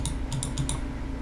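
Rapid mouse clicks while painting digitally, a quick cluster of crisp, close clicks at a steady pace over low background hum.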